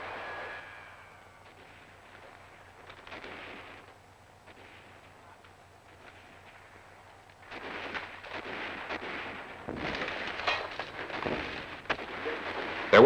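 Artillery and anti-aircraft fire in a World War II newsreel from the First Army's advance on Cologne, with scattered muffled booms and rumbles early on and denser, louder bursts of firing toward the end.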